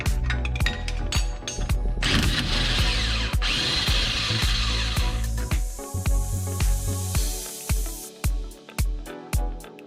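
A power tool unscrewing a suspension bolt on a flood-damaged BMW G80 M3 Competition, with sharp ratcheting bursts, a sustained whirring run in the middle, and then repeated short clicking pulses, loud and close.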